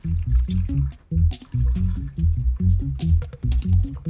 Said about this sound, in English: Then I'm going to add water to the outside.